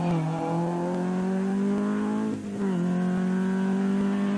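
Stuart Barrow's 2.1-litre rally car on a Jersey Rally stage, its engine holding a steady loud drone that dips briefly mid-pass before climbing again, close and continuous with no voices.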